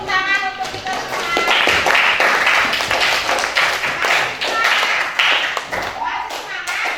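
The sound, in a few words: class of children clapping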